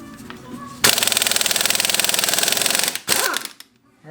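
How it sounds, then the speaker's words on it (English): An impact wrench hammers loose a 19mm nut on a KLR650 motorcycle, a loud rapid rattling burst lasting about two seconds, then a brief second burst after a short pause. "now I'm going to impact this off"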